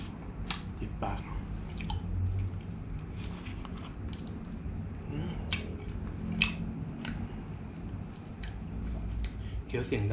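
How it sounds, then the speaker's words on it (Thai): Close, moist chewing of soft milk bread, with soft crunchy bites repeating steadily, punctuated by small sharp clicks and crackles. "เคี้ยวเสียงดังขอโทษทีครับ"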